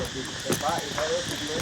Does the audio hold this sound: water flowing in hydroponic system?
no